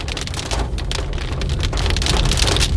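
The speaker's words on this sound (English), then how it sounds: "They're bouncing down. Hail's coming down." Quarter- to ping-pong-sized hailstones fall and bounce during a Kansas thunderstorm, a dense, loud, continuous patter of hard impacts that builds slightly and has no talk over it.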